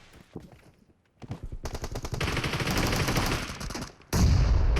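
Gunfire in a shooter video game with an M24 and other weapons: a long, loud burst of rapid, evenly spaced shots after a few scattered ones, then a sharp heavy blast at the end, with no talk.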